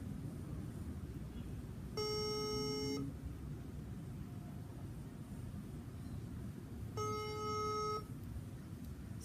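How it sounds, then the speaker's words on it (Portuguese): An outgoing WhatsApp call ringing on a phone: two separate electronic ringback tones about a second long each, spaced several seconds apart over a low steady background hum, with no talk. "Eu vou ligar pra ela aqui, pelo WhatsApp."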